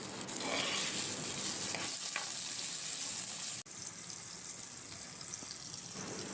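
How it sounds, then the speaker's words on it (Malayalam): Onions and tomatoes sauté in oil for a sardine curry, giving a soft, continuous sizzle that drops briefly for a moment past the midpoint and then carries on, with no talking. "അപ്പോൾ ഇതെല്ലാം കൂടി നന്നായിട്ട് വഴന്ന് വെച്ചിട്ടുണ്ട് അതിലേക്ക് നമുക്കൊരു രണ്ട് തക്കാളി ആഡ് ചെയ്യാം"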